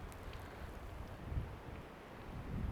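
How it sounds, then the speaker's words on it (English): Strong wind gusting at an alpine lake in autumn, a low, rumbling buffet of air against the microphone that swells and eases, with faint rustling on top and no voices. "This wind is crazy."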